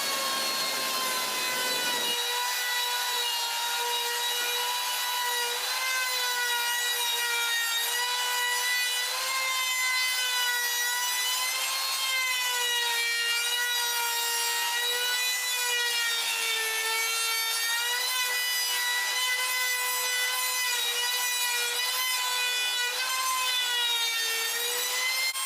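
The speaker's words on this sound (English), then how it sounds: "we're just going to give that a quick sand over with a piece of sandpaper" A piece of wood for a bath tray being hand-sanded with sandpaper, a continuous loud close rasping with a steady harmonic ring, without talking.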